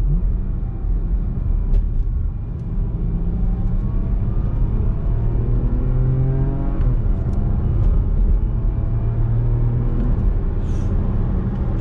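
A Porsche Macan S accelerates hard. Its engine note climbs in pitch, then drops sharply at quick gear shifts, over a continuous road rumble.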